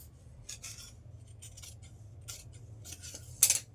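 Sharp scissors snip through blouse fabric in a few short, crisp cuts spread across a quiet room, with a final louder snip near the end and no talking.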